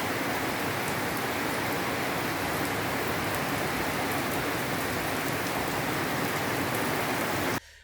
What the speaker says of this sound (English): about 40 minutes after that you get a massive downpour